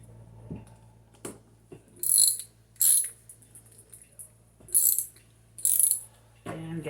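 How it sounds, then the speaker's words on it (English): A ratchet clicks in several short separate bursts while someone takes the carburetor off a push mower; the sharp, close mechanical clatter is broken by quiet handling between turns. "you pop it off with a ratchet usually"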